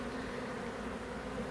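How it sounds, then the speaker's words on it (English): Honey bees fanning at a beehive built into a chicken coop, a dense continuous buzzing drone, close and steady, with no voices. "and so bees are now fanning in a different direction"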